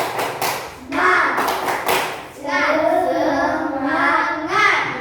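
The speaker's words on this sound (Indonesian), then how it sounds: "Iya, tepuk tangan dulu" A class of children chants a group yell while clapping in unison, sharp rhythmic claps and thumps mixed with voices chanting together.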